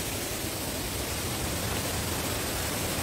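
Kinahugan Falls pours in a steady, dense roar of rushing water, close and loud, filling the whole stretch without any pause or voices.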